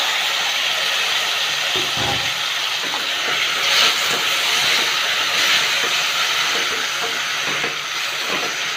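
Tomatoes are added to a hot pan for ridge gourd kadaiyal and sizzle loudly, a steady broad hiss that runs without a break, with slight swells partway through.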